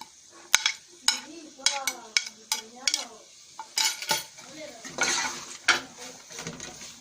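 Vegetables in chili sauce being stir-fried in a pan, with a utensil clanking and scraping against the metal in irregular bursts over a faint sizzle, up close and without talk.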